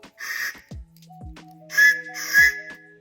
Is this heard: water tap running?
no